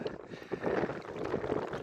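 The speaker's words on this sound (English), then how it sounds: "she's some windy out here though." Gusty wind buffets the microphone outdoors on open water during a fishing trip, with water sloshing softly underneath, a steady roar rising and falling.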